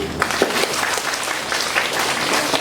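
An audience at a school role-play competition for third-grade children gives hearty applause, steady crackling claps from many hands that run unbroken throughout.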